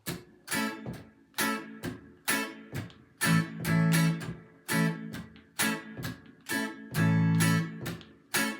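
Reggae guitar strums in a steady, choppy rhythm, short bright chops repeating evenly with occasional longer ringing chords, played alone.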